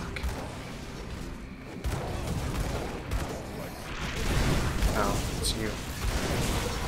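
Gunfire and dense battle noise from the action RPG Grim Dawn, clattering in bursts and rumbling booms throughout, with a voice speaking briefly over the din.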